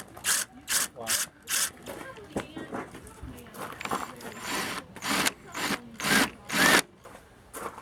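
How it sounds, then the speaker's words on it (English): Drilling holes into wood shelf molding while adding storage to a travel trailer, with a power drill giving repeated short whirring bursts in a steady rhythm, close by and fairly loud. "Actually, I'll drill the regular holes, and then I'll use a larger bit"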